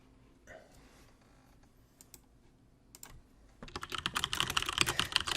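Rapid typing on a computer keyboard, close and fairly loud, with dense irregular key clicks that start suddenly partway through after a quiet stretch of faint room noise and a few isolated taps.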